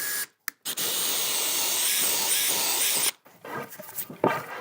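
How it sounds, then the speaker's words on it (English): Electric drill boring into a steel rail with a 5/16 drill bit, a loud, steady high-pitched grinding whir lasting a few seconds between short stops, then trailing off into softer scraping. "I'm gonna make sure to try and drill this as straight and square as possible."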